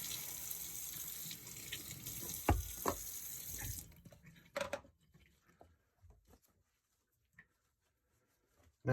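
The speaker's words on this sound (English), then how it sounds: "Rinse off my brush." Water from a running tap splashes steadily while a brush is rinsed under it, a broad continuous wash for about four seconds that then cuts off, leaving a few faint drips and clinks.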